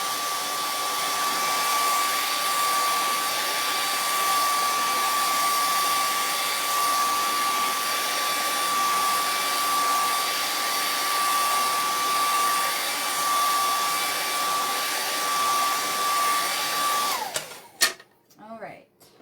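Hair dryer blowing on freshly applied chalk paint, a loud, steady whine running close and unbroken for about seventeen seconds before cutting off, followed by a few brief knocks.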